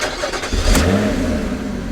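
A Lotus Evora S engine cranks and fires up, then gives a quick automatic rev blip before settling toward idle, loud and close.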